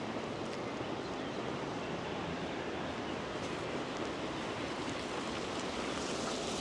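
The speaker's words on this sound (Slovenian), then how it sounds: "Na ovinku tudi postane precej mokro, ker voda teče preko roba levade." Water spilling over the edge of a levada irrigation channel on a mountain path, a steady, close, full rushing wash that stays even throughout with no talking.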